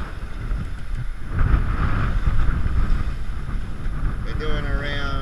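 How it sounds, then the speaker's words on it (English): Open-sea waves and strong wind aboard a 33-foot Crowther trimaran sailing from Darwin toward the Philippines, a loud continuous rush of wind noise and sloshing water, with a voice speaking near the end. "There's some waves."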